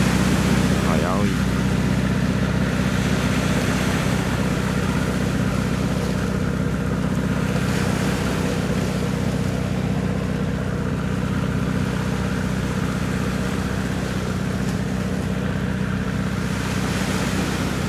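A large engine drives a flat-hulled boat across rough, storm-tossed water, a loud steady drone with wind and waves washing through it continuously. Someone talks over the noise in places.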